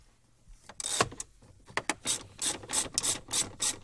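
A 3/8-inch ratchet with an adapter and a small 1/4-inch 7mm socket backs out the heater control screws in a Ram pickup, making close, crisp bursts of ratchet clicking in a quick repeated rhythm.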